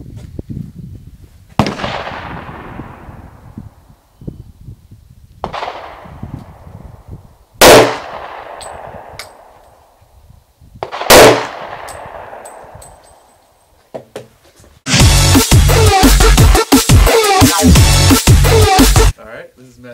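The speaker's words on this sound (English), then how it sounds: "So I'll fire 2 shots and then it'll be your turn." A handgun fires single, spaced shots at an outdoor shooting range, each a sharp crack with a trailing echo. A stretch of loud, rough handling or wind noise follows.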